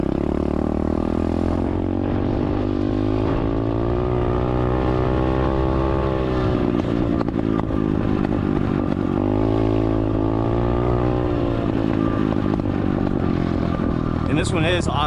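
An SSR 125 automatic dirt bike with a carburetor still needing adjustment, its engine running steadily and loudly close by with a rough, throbbing tone and irregular pops, while someone talks over it.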